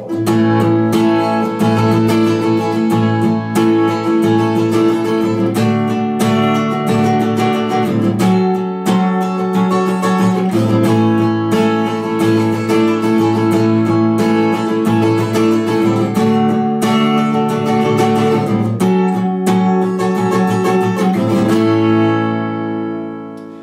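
Continuous capoed guitar strumming runs through a chord progression, bright and steady, with regular chord changes before the final chord fades out.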